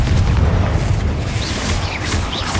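A Confringo blasting spell detonates inside a tomb in the video game Hogwarts Legacy, giving a loud, rumbling explosion that swells and rolls on without pause, with brief crackling bursts over the sustained boom.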